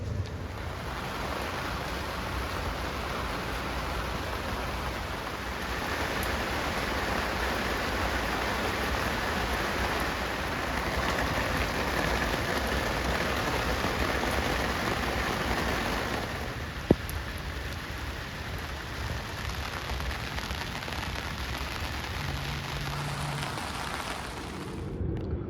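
Rain patters steadily on an anchored sailboat in Newport harbor, a dense, even hiss of drops on the deck and water, close and continuous for about twenty-five seconds with one sharp tap near the end.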